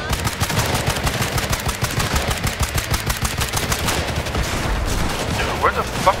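Rapid gunfire from the video game Sniper Elite 5 rattles continuously, dense bursts of machine-gun and rifle shots layered into a loud, steady barrage with a few sharper reports near the end.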